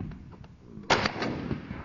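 A single shotgun blast cracks out during a pigeon hunt, sharp and moderately distant, followed by a short fading echo over quiet outdoor background.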